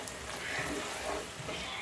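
Masala sizzling together with raw prawns in a pan, a soft continuous crackle and hiss of frying with faint stirring, steady and fairly quiet.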